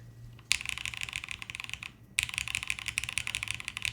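Fast, steady typing on a plateless mechanical keyboard with a deep, muted clack, broken by a brief pause partway through. Close and fairly loud, no voices.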